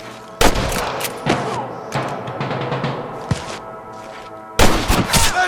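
Bursts of gunfire in Red Dead Redemption ring out in loud, sharp clusters, with a heavy volley at the start, scattered single shots through the middle, and another dense burst near the end.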